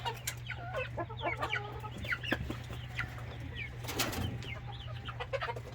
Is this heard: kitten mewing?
no